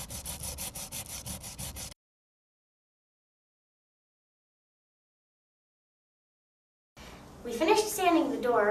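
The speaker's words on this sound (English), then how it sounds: "We finished sanding the door and brushed off all the excess dust." Rhythmic scraping strokes of sandpaper on a wooden door, about a dozen quick passes, then silence, and afterwards a person talking.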